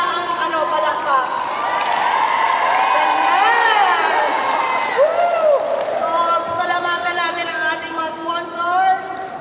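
A reunion party crowd cheers and claps in a sustained, loud swell, with shouts, whoops and overlapping voices rising and falling throughout.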